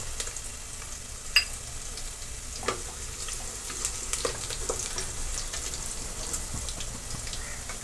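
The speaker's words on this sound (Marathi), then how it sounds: "तर हे खाडे मसाले व्यवस्थित परतून घेणार आहोत आपण जिरे देखील टाकून घेणार आहोत" Whole spices and cumin seeds fry in oil with a soft, continuous sizzle. Scattered light pops and stirring scrapes come through now and then, and no one speaks.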